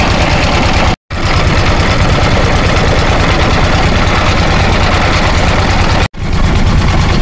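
Engine-powered boats motor across Hasaigari beel, a wetland lake in Naogaon, with a loud, steady, close chugging drone broken by two brief dropouts and no talk.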